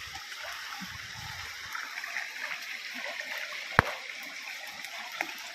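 A river flows as a soft, continuous rushing wash, with one brief sharp click partway through and no speech.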